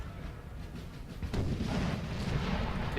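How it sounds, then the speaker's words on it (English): Artillery fire from a Napoleonic battle at Friedland in the video game Napoleon: Total War, heard as a continuous low rumble of distant booms that grows louder partway through. "The artillery duel is just going on strongly here."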